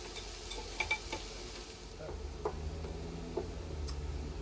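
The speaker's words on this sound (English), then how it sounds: "the mushrooms have started to release some water. You can see a little bit of it boiling here" Quiet sizzling and gentle bubbling of mushrooms releasing water in a pan, with a few light clicks and taps over a soft, steady background.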